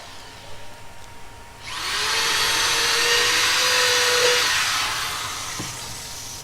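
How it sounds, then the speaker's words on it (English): A power drill bores into greenhouse framing wood, a high whining buzz starting abruptly and running steadily for several seconds before easing off, close and fairly loud. "I'm gonna drill a couple of holes to secure it to the side with a 4-inch screw"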